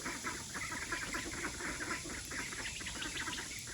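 A flock of runner ducks chatters in rapid, overlapping quacks and clucks, faint and steady throughout, with no voices.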